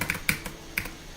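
Clicky computer keyboard spacebar pressed a few times in quick, uneven succession, each press a sharp, close, fairly loud clack with short gaps between, no voices.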